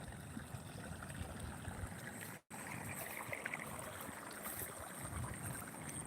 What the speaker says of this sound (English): they finally released the water from the main irrigation